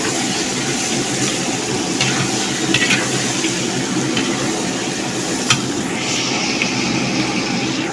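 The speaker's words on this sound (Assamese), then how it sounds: "লাহে লাহে পিঁয়াজটো অকণমান মলিছে" Onions sauté slowly in a pan for a village-style Assamese mutton curry, giving a steady, moderately loud sizzle with a few faint clicks and stirring scrapes and no voices.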